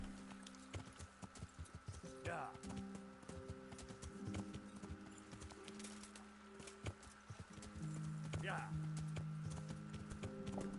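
Horse hooves clip-clop in the medieval game Kingdom Come: Deliverance, a couple of short bursts of steps over a busy bed of game ambience and steady tones, moderately loud throughout.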